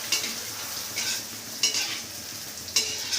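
Fuchka puris fry in hot oil with a loud, steady, close sizzle while being stirred, and four sharp scraping bursts from the spoon mark each stir.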